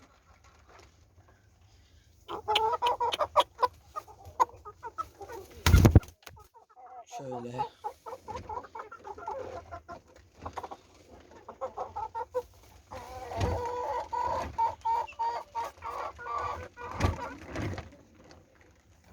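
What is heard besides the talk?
hen and chicks clucking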